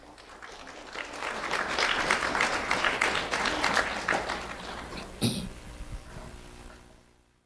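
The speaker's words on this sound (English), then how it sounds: "Let's have a round of applause for Brighton Weiss." An audience at a school recognition ceremony applauds a first-grade student, clapping building over the first second into a sustained crowd round, then cutting off sharply with a thump and fading into quiet room noise.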